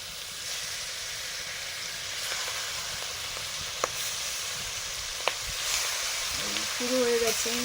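Spice-rubbed fish frying in a little oil in a wok gives a soft, continuous hiss with a few sharp spatters and pops. A short tonal sound near the end rises above the hiss.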